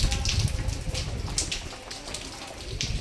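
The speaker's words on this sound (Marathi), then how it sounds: "पाऊस येतो" Night rain falls outdoors in a soft, continuous patter, with scattered sharper drops ticking on a nearby surface.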